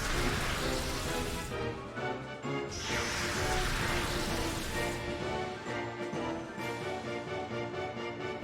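Rain weather in the video game Pokémon XD: Gale of Darkness, a soft continuous hiss of falling rain whose texture shifts in a few washes, heard alone at low level without talk.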